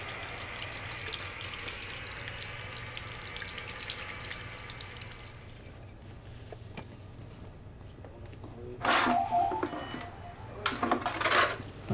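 Water runs from a tap into a wash-hand basin, a steady broadband hiss for the first five seconds, then quieter, with two brief louder splashing bursts near the end.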